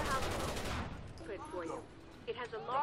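Gunfire in the video game Rainbow Six Vegas 2, a brief burst of rapid automatic shots up front that fades into quieter sounds, with a voice talking faintly underneath.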